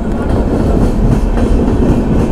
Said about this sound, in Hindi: मेरे को ट्रेन देखना बड़ा बढ़िया लगता है, मज़ा आ जाता है।